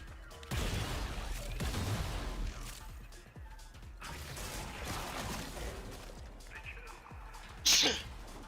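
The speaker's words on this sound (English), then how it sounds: "I sneeze for the Lord." A person sneezes once, sharp and loud, near the end, over the clatter and gunfire-like effects of the Warframe video game.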